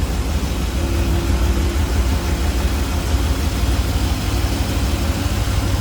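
A 1978 GMC Sierra K10 pickup with a four-barrel carburetor, HEI ignition and headers idles steadily and close by, a smooth, even low rumble that holds without a break and with no voices over it.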